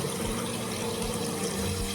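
Steady running water streams without a break while a child's hands are washed under a tap, with no talk over it.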